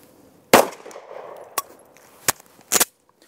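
A handgun during trigger-jerk drills: several sharp, loud impulsive reports spaced irregularly, one strong shot followed by a smaller crack, another, and a closing double burst, with no talking.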